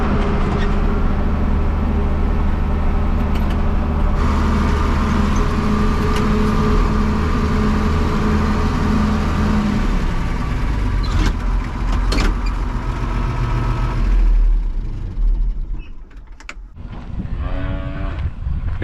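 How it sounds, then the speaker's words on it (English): A heavy tractor engine rumbles steadily at close range, low and loud, while moving a manure spreader on a dairy farm, then winds down and fades near the end. "I'm gonna take the manure spreader and park it over by the freestall barns"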